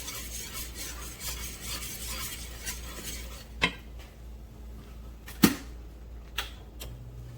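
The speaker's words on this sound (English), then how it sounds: "Stir, stir, stir. Don't stop stirring." A spoon stirs thickening flour gravy for smothered pork chops in a pan, a soft continuous scraping broken by a few sharp utensil taps against the metal, close and fairly quiet.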